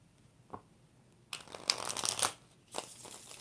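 Tarot cards being shuffled, beginning with a single faint tap and then two close bursts of rapid riffling and flapping, the first longer and louder than the second.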